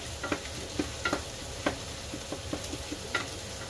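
Browned ground beef and onions for chili being stirred in a sizzling pan, with soft scraping clicks of the utensil over a steady low frying hiss, close and fairly quiet.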